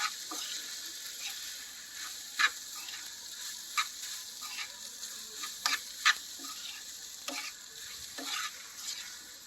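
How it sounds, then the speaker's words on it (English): Leftover ugali frying in a pan over low gas while being stirred, a soft steady sizzle broken by sporadic light scrapes and taps of the utensil, close but fairly quiet, with no speech. "You give it a mix."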